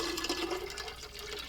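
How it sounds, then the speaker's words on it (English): Fresh pineapple juice, 24 ounces, pours into a tiki-style cocktail mix in a steady, close, continuous liquid stream lasting a moment and filling the whole stretch without pause. "And then we're adding 24 ounces of fresh pineapple juice."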